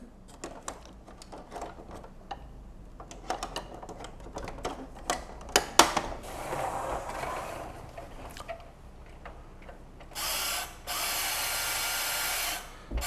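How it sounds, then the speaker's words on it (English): A vintage Kenner Star Wars toy gives off its laser effect, a harsh, whining electric motor buzz in two sustained bursts. Before it come scattered clicks and rattles of the toy being handled. "that horrendous whining motor noise that was the laser sound effects for all of the Kenner Star Wars toys back in the day"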